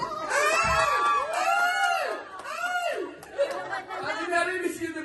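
A crowd of audience members shouts and cheers for a contestant at a church choir competition, a loud sustained wave of overlapping voices and calls with bursts of excitement throughout.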